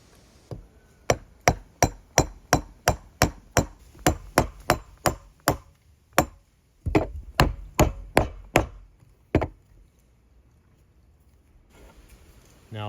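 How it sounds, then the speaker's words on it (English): Hammer blows on a chisel cutting bevels into wood corners, a steady run of about twenty sharp, close strikes at a quick even pace, a brief pause, then another short burst of blows, with no talking. "They're like bevels in these corners using a hammer and chisel"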